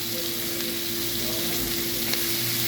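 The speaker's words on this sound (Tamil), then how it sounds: "வெங்காயம் நல்லா வதங்கிட்டு தக்காளி சேர்த்துருக்காங்க." Onion and tomato sauté in a pan for an okra buttermilk curry. The sizzle is even and continuous, with a faint steady hum beneath and no talking.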